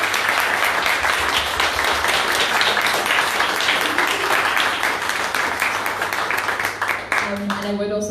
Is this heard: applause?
yes